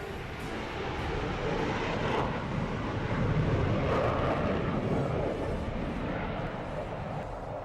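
Military jets roaring past in a Republic Day parade flypast of Rafale, Sukhoi 30, MiG-29 and Jaguar aircraft, a loud sustained rumble that swells near the middle and holds steady.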